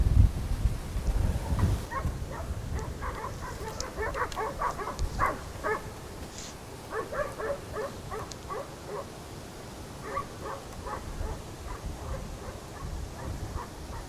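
Distant hunting hounds bark in scattered bursts in a cornfield, faint beneath strong gusting wind that roars across the microphone.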